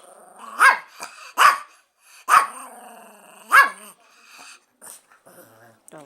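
Close, loud barks from a dog wanting a toy car come in four sharp bursts at irregular intervals, separated by low growls and softer huffs.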